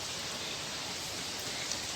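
Rain pouring during a windy storm, a dense steady hiss with no breaks, close and fairly loud, with no voices.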